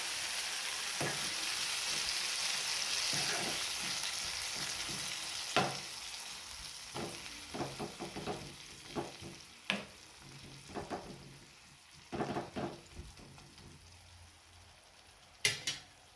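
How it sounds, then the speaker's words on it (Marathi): Okra frying in a pan as masala is mixed in. A soft, steady sizzle runs throughout, broken by scattered scraping and clinking stirring strokes that grow more frequent toward the end. "हा मसाला आता भेंडीमध्ये घालून घ्या. आता आता हे मिक्स करा."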